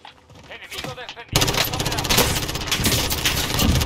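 Rapid gunfire in the video game Call of Duty Warzone, starting faint and sparse then bursting into loud, dense automatic fire with clattering impacts; a voice is faintly heard early on.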